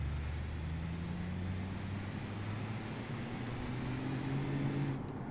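Steady droning hum of a 6-litre diesel car driving in the BeamNG.drive game, a continuous low engine tone with slowly shifting pitch and a rushing background, heard alone without talk.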